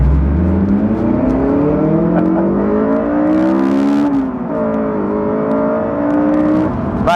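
A BMW Z4 and a Honda S2000 accelerate hard side by side in a drag race, engines loud and close, revs climbing steadily with a brief dip at a gear change before rising again.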